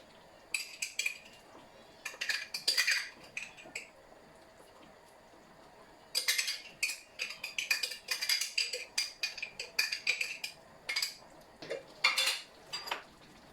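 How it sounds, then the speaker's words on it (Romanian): A spoon works through a pepper paste and oregano mixture in a pan for lahmacun topping, with repeated close scraping and clinking strokes in uneven bursts, pausing briefly midway before resuming steadily. "Amestecăm foarte, foarte bine și lăsăm la foc așa 5 minute"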